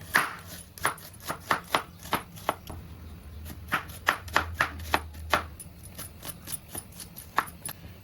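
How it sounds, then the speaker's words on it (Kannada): An onion is chopped finely with a knife on a board in a home kitchen, the blade tapping in quick sharp clusters of crisp strokes with brief pauses, close and clear, while a pot simmers faintly behind. "ಇದು ಚೆನ್ನಾಗಿ ಕುದಿ ಬರಲಿ, ಅಲ್ಲಿವರೆಗೆ ನಾವು ಈರುಳ್ಳಿನ ಸಣ್ಣಗೆ ಕಟ್ ಮಾಡ್ಕೊಳ್ಳೋಣ"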